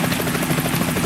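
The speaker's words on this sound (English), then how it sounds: "Is that a chopper I just heard?" A helicopter approaches in the Metal Gear Solid 2 video game, a loud, dense rotor roar with rapid chopping pulses filling the sound, close and steady with no talking.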